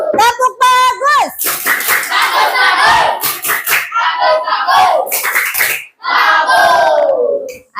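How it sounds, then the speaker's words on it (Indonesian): Schoolchildren in a classroom do a rhythmic group clapping cheer after a student presentation, with loud hand slaps and claps mixed with children's voices and chatter throughout. "Tepuk bagus."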